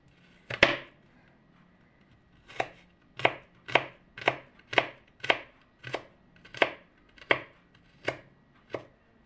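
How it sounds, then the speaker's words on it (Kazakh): A knife chops garlic finely on a board in a run of about a dozen crisp, evenly spaced knocks after a single opening strike, close and clear with no talking. "ұсақ-ұсақ қылып турап аламыз"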